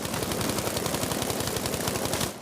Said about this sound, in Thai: ทำไมรู้สึกมันยิงไม่ค่อยโดนเลยเนี่ย